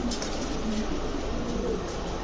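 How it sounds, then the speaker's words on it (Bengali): Female Kittel-line racer pigeon giving soft, low cooing calls in short repeated bursts, faint beneath a steady broadband background hiss. "এটা মাদি কবুতর"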